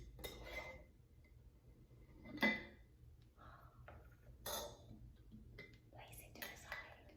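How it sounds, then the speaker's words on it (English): A lid being taken off a glass jar, brief clinks and scrapes of glass and metal around the two-and-a-half-second mark, followed by more light handling clatter, with soft speech nearby. "take off the lid"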